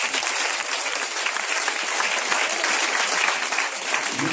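Congregation at a deliverance vigil in Zaroko applauding to acclaim Jesus, steady dense clapping from many hands throughout, loud and continuous with no pause.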